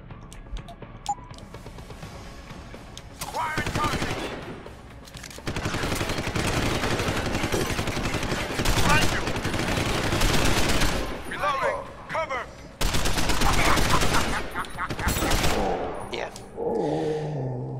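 Gunfire in the video game Deus Ex: Human Revolution, long loud volleys of rapid automatic shots in several bursts separated by brief lulls, close and dense.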